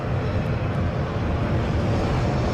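An ATR 72-600 turboprop airliner runs near an Edinburgh airport in gusty conditions, giving a steady, loud, broadband engine roar with a deep low rumble and no breaks.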